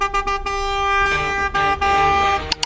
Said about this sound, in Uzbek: Nima u signal chalyapti?